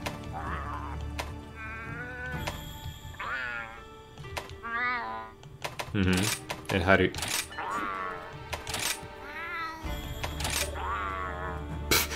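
An elderly cat meows repeatedly in a series of drawn-out, wavering cries indoors, close by, while a person speaks softly in between.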